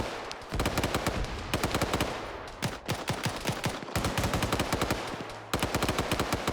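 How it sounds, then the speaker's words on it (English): A medium machine gun fires in a video game battle, loud and close, in long sustained bursts of rapid rounds broken by brief pauses, with no voices over it. "That is a medium machine gun, though."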